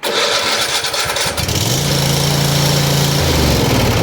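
Cub Cadet ZT1 Ultima zero-turn mower with a 42-inch deck starting up: a brief cranking burst, then the engine catches and settles into a loud, steady idle, close by.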